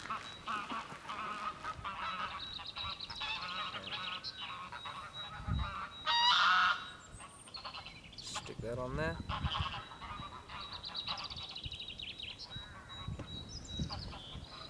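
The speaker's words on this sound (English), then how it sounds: "There's a lot of grey-leg geese around at the moment." Greylag geese honk repeatedly by the waterside, some calls close and loud, over outdoor background noise, with a person speaking briefly.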